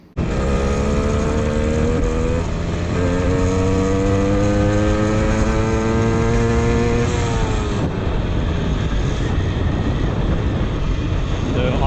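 A motorized bicycle engine runs steadily during a ride in the rain, its loud buzzing drone rising and falling in pitch with throttle changes, close and continuous throughout.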